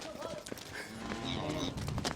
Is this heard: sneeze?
no